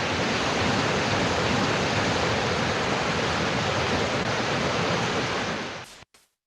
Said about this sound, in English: And let's hear from the river and waterfall itself.